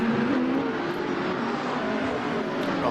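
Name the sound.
GT3 race cars lapping Silverstone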